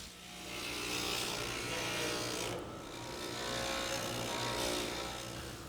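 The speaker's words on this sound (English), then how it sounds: "The edges are then sanded down to make them smooth." Steady whirring grind of a sanding tool smoothing the trimmed edges of a prosthetic limb socket, continuous and fairly close with a brief dip midway, no voices.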